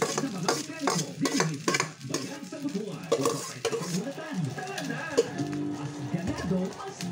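Rice being stir-fried with a little salt in a pan, with repeated scraping and stirring strokes over a light sizzle, while a person talks throughout.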